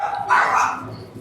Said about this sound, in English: Barking dogs, this town's got it all